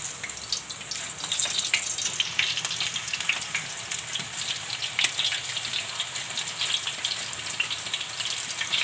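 Banana slices drop into hot oil for homemade banana wafers and fry with a dense, steady crackling sizzle that continues without a break at close range, with no voices over it.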